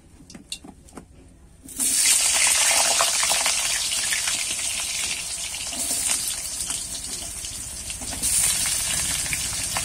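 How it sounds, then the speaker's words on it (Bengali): Washed, cut potatoes dropped into hot oil for a Bengali ridge gourd and potato prawn dish, a few light clatters followed by a sudden loud, sustained sizzle that surges again as they are stirred. "সবার প্রথমে কিন্তু ধুয়ে কেটে রাখা আলুটা আমি ভেজে নেব।"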